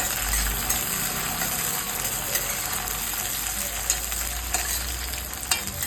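Ginger and green chillies sizzle in hot oil in a pan for rasam, a steady, close frying hiss with a few faint knocks of stirring and no voices.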